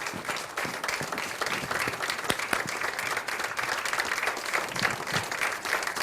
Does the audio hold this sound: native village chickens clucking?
no